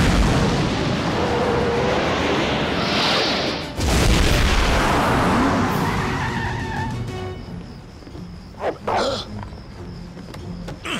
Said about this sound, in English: Activating missile launcher.